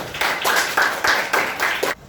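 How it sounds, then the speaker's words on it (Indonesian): Students in a classroom clap together in a rhythmic unison pattern, about six sharp, evenly spaced bursts close to the microphone before stopping abruptly. "Kita berikan tepuk tangan untuk Sila"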